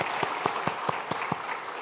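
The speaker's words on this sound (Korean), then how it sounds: "한번 박수로 격려하도록 하겠습니다." Applause from a church congregation during a Sunday service, a light wash of clapping with a few distinct, evenly spaced claps standing out nearby, fairly quiet overall.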